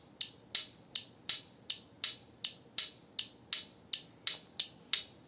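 An e-bike tiktak relay with a running flasher ticks out sharp, evenly spaced clicks, about thirteen in quick steady rhythm, close and clear over faint hum.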